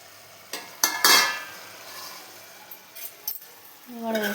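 A spoon scrapes and clinks in a pan as masala powder is stirred into chicken curry, with a few sharp knocks over a soft sizzle and a brief voice near the end.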